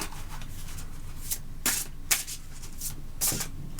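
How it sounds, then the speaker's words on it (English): Tarot cards are shuffled by hand, soft papery riffles and slaps coming in short bursts at close range, fairly faint with no speech. "Did you already shuffle?"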